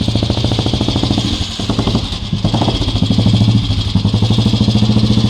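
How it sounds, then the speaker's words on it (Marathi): A Royal Enfield Bullet motorcycle runs close by with a loud, steady thumping engine beat, a rapid, even chug that holds for the whole stretch. "आणि आता हे बाबांची बुलेट चालू झाली आहे आणि बाबा आता राऊंड मारणार आहे"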